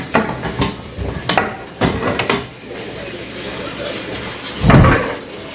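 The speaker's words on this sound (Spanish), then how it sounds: "Entonces ahora buscamos la olla." Pots and cupboard items knock and clatter in a home kitchen while someone hunts for a cooking pot to boil beans, with a few sharp bangs, then a quieter stretch and a louder clank near the end.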